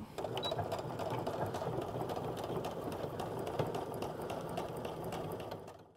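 A sewing machine runs steadily while closing the casing for an elastic waistband on pull-on pants, a close, continuous mechanical whir with fine rapid ticking that fades out at the very end.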